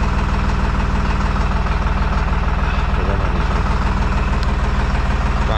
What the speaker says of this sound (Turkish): Biraz ısınacak traktör.